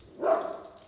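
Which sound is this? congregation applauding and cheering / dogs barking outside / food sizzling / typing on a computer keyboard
dogs barking outside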